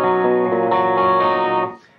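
Single notes from an electric guitar played through an Eleven Rack modelling a Marshall BluesBreaker amp sound loud, sustained and nasal, then cut off and fade after about a second and a half.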